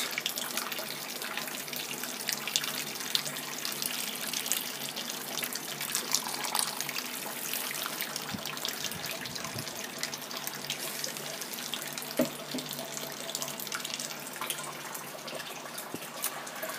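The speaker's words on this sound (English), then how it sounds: "So here we are, sparging, and the water is at 77 degrees." Hot water at 77°C pours and splashes steadily into a vessel while sparging in home beer brewing in a garage, a continuous gushing flow with occasional soft knocks.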